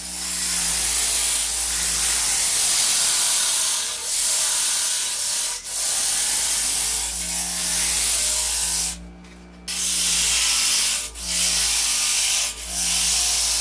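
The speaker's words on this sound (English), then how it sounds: "I have to take off all the excess around the heel" Grinding machine shaving excess material from around the heel of a vacuum-pressed orthotic device, a loud steady abrasive hiss and whir with a low motor hum and brief dips as the piece is lifted away.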